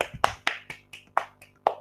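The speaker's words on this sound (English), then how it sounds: "Give a big round of clap, children." Children in an online kindergarten class clapping, a handful of sharp separate claps spaced unevenly over a couple of seconds, fairly close over a faint steady hum.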